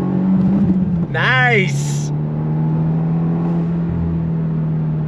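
A 2024 Subaru WRX base sedan engine held at about 3,000 RPM, a steady, close droning hum that continues after a short spoken remark.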